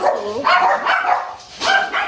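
Shih Tzu dogs bark and yip in a kennel, a few close, loud, high-pitched barks in quick succession.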